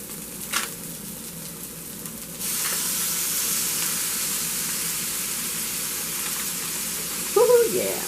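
Precooked, peeled crawfish tails hit a hot pan for baked macaroni and cheese, a bright steady sizzle jumping up partway through and holding, with a brief louder stir or clatter near the end.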